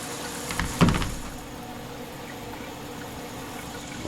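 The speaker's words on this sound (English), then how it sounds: "So wash that off, just kind of tap the water out of it." Water from a tap splashes briefly onto a mini split air conditioner filter during rinsing, a short gushing burst near the start that fades into a low, steady background hum.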